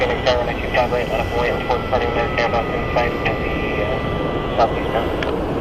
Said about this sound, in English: Now we have American Airlines going to Cancun. An Airbus, I believe it's an A320 Neo